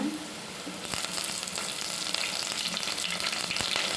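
Curry leaves and coriander sizzle in hot oil in a pan while pasta is cooked. A loud, steady frying hiss sounds up close, broken by a few sharp pops and crackles.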